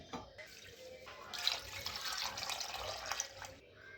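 Water is poured over washed rice to soak it, a soft, steady stream for a few seconds, a quiet close trickle and splash that stops abruptly.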